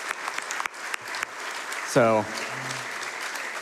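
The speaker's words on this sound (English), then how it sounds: "stop clapping and go to sleep" A live audience at the Summer Games Done Quick 2024 charity speedrun marathon claps steadily in the background as someone speaks over it, with a brief shout rising near the middle.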